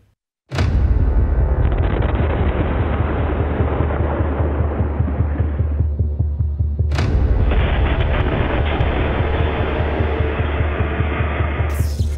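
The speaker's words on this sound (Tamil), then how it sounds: "நள்ளிரவில் நிகழ்ந்த பயங்கர வெடிவிபத்தில் ஒட்டுமொத்த ஸ்ரீநகரும் கதிகலங்கிய காட்சிதான் இது." Massive midnight explosion at a police station in Srinagar, Kashmir, set off while samples of seized explosives were being collected: a sharp blast then a sustained roaring rumble, followed by a second heavy boom and long reverberating roar, loud and continuous.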